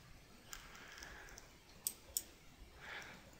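Two sharp, faint mouse clicks in quick succession while working in MAXQDA software, set against a quiet background hiss with no talking.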